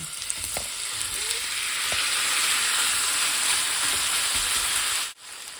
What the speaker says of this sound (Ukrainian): Чекаємо, поки розтопиться, і викладаємо сюди м'ясо, наше мариноване.